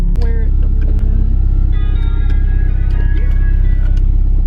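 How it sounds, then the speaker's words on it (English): A car engine rumbles loudly and steadily up close, with a voice speaking over the running motor. "This car is so much easier just to start up"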